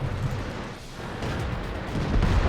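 Tank cannon shots in the video game World of Tanks, heard as deep booming blasts with a rolling low rumble between them, fairly loud and without voices.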